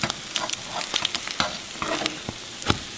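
Buttered French toast frying in a non-stick skillet, a steady close sizzle with scattered crackles and pops and a few soft scraping clicks, no voices.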